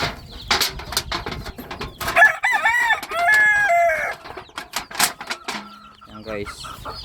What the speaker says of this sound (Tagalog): sakang manok.